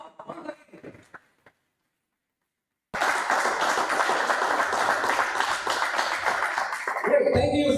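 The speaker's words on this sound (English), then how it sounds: "A big round of applause." An audience at a cricket tournament auction event bursts into sustained applause and clapping for several seconds after a brief pause, loud and dense. A voice comes through beforehand.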